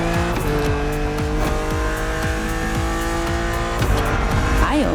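A BMW Z4 E89 roadster driving in The Crew Motorfest racing game, its engine droning steadily with shifting revs and brief tire squeal, loud and continuous with no talking.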